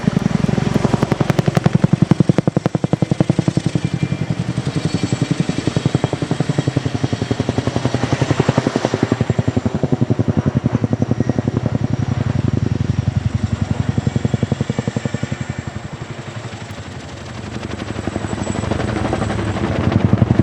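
An RAF Chinook HC.6 tandem-rotor helicopter flies a max performance climb during a RIAT flying display, its heavy, continuous rotor thudding and turbine roar loud and sustained throughout, with no one speaking.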